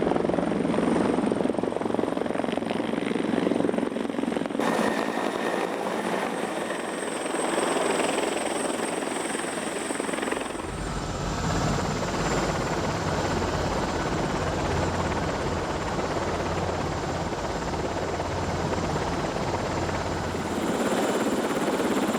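A helicopter approaches and maneuvers to land on an offshore platform beside a seismic survey ship, its loud steady rotor and turbine roar filling the scene throughout, the tone shifting midway as it banks and slows.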